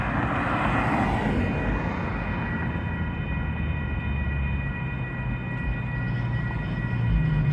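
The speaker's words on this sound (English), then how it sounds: "I can hear the locomotives." Union Pacific freight locomotives approach a road crossing, a loud, steady low diesel rumble with a sustained high tonal whine, growing slightly nearer, with no talking.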